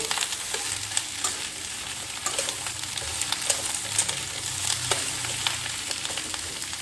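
Beans and radish fry in a little leftover oil for a vegetarian sabji, giving a steady soft sizzle with occasional stirring clicks and a low hum underneath.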